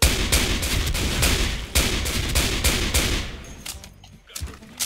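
An M14 EBR rifle fired with the trigger held down in the Special Force 2 shooter game: loud, rapid, repeated gunfire in a steady stream, easing into scattered shots near the end.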